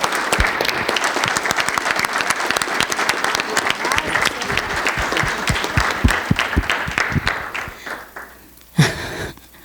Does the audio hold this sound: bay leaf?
no